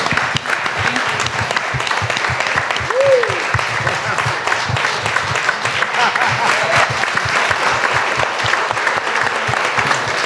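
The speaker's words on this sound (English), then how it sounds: "Can I have a round of applause?" A room of guests at a Mob Museum anniversary event applauds steadily for the full stretch, a dense even patter of many hands. A voice or brief tone briefly rises above the clapping midway.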